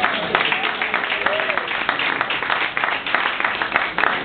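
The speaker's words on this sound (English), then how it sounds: "There's a well-deserved applause" Audience applause for a singer, a dense, steady wash of clapping that carries on throughout at moderate loudness, with some voices and faint cheering mixed in.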